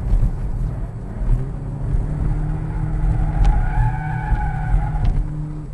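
A Hyundai Ioniq Hybrid in sport mode cornering hard and accelerating, with a sustained tire squeal and a rising, whining engine and motor drone, heard close from inside the car; no talk.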